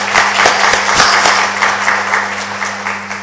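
A church congregation applauds its Wednesday worship team, a steady burst of many hands clapping in a room, loud and sustained over a low electrical hum.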